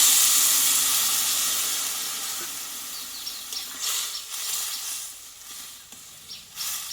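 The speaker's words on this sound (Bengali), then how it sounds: "এবার এতে আমি একটু অল্প করে জল দেব" A splash of water goes into a pan of frying taro and potato curry, setting off a loud steamy hiss that gradually subsides, with stirring scrapes and bursts of bubbling afterward.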